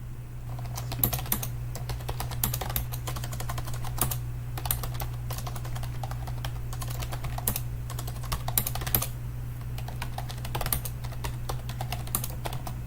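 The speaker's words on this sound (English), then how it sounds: "can really hear my keyboard" Steady, rapid clicking of computer keyboard keys, close by, continuing throughout over a faint low hum.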